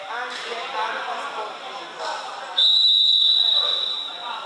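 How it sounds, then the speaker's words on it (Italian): A referee's whistle in an Italian amateur basketball game cuts in with one long, loud, steady blast over crowd noise and commentary. "qui c'è invece il fischio arbitrale"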